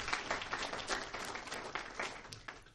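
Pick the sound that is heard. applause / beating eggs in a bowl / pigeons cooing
applause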